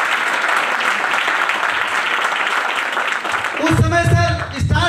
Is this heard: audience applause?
yes